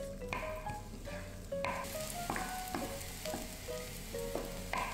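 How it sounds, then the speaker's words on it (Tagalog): Garlic frying in heating cooking oil, a steady close sizzle with bursts of crackle and the clink of a utensil stirring the pan, no voices. "Habang umiinit yung mantika, nilalagay ko na kagad itong bawang."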